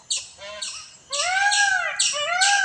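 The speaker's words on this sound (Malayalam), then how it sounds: "അത് ഫുള്ള് മയിലിൻ്റെ സൗണ്ടാണ് കേട്ടോ." Loud bird calls in the open morning air, several harsh, sliding squawks in bursts with a longer sustained call near the middle, suggesting a peacock calling somewhere nearby.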